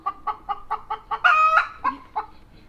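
A hen imitating a rooster gives a short run of rhythmic clucks that builds into a strained, squawky crow, followed by a few more clucks, close and clear with no talking.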